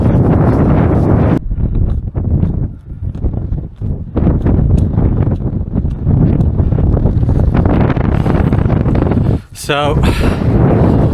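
Strong wind buffets the microphone on an exposed black mountain, a loud continuous roar with gusts throughout, briefly dropping near the end, while a person speaks over it.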